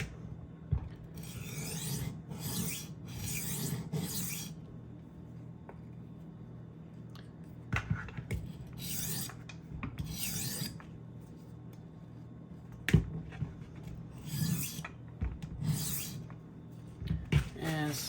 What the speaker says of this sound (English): You're just flipping that burr back and forth, side to side, until it snaps.